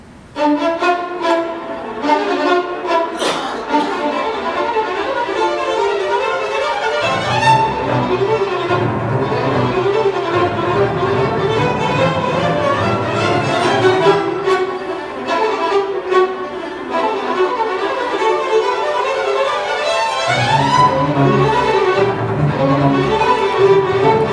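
A close, full string ensemble plays sustained, layered harmonies with swelling low and mid lines, continuous and loud with no pauses.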